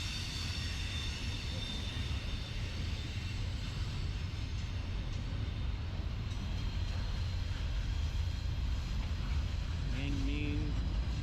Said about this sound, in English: Brand new paint on the first two locomotives.